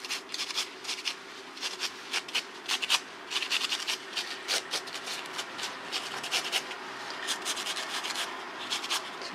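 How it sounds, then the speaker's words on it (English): Sandpaper scrubbing the edge of denim fabric to fray and weather it, a close, dry, scratchy rasp repeated in quick irregular strokes over a faint background hum, with no talking. "And now with the sandpaper, it's just getting a little bit of a rough edge here."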